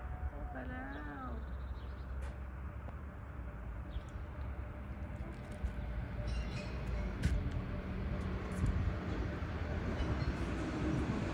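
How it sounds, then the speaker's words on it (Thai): Low steady rumble of a train in motion, growing a little louder, with a brief high cat-like cry near the start. "เดี๋ยวก็ขอไปขึ้นรถไฟก่อนนะคะ"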